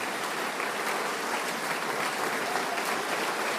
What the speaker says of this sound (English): Please give a round of applause to Braxton Miller